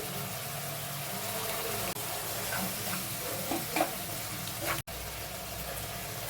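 Ground onion, ginger, cumin and green chilli paste fries in oil in a pan for a Bengali chital fish dish, a close steady sizzle with wet stirring and scraping, briefly cut by two abrupt dropouts.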